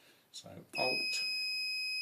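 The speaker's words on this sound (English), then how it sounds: "Smoke alarm, fairly self-explanatory." Smoke alarm sounding with a steady, piercing high-pitched tone that starts partway through and holds continuously at full loudness, with a person speaking briefly before and over its onset.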